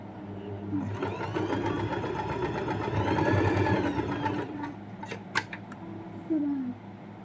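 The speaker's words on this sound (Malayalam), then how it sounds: "എല്ലാ മൂലകളും ഇങ്ങനെ ഒന്ന് കുറച്ച് ഒരു ഇത്ര വീതിയിലൊക്കെ ഒന്ന് സ്റ്റിച്ച് ചെയ്തെടുക്കാം" A sewing machine runs in one steady burst while stitching the corners of a fabric pencil pouch, then stops, followed by a few light handling clicks and taps; nearby and fairly loud.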